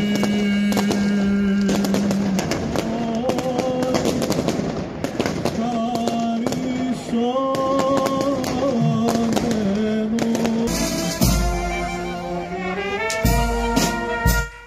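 Rapid fireworks and flares bang and crackle again and again, loud and close, over a steady wash of sustained singing voices and crowd noise at a Greek Orthodox Easter Resurrection service at midnight on Holy Saturday in Agios Nikolaos, with the burning of Judas.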